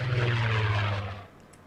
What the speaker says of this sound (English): we get these little planes flying across as it loads in the scenery